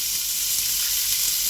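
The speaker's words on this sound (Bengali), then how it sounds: "এইবারে সবজিগুলোকে সব একসাথে এর মধ্যে ঢেলে দিলাম।" Vegetables tipped into a hot pan with whole garam masala and cinnamon for oats khichuri, giving a loud, steady sizzle and hiss close up.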